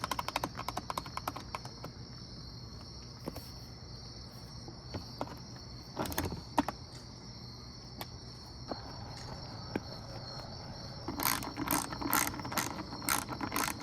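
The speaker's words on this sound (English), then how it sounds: "I'm going to reinstall the 2 bolts for the seat." A ratchet tightens the two seat bolts on a Kawasaki KX dirt bike, with quiet bursts of rapid clicking that come in short spells and a busier run of clicks near the end, over a faint insect-like hum and no speech.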